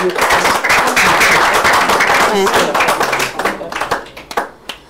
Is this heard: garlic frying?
no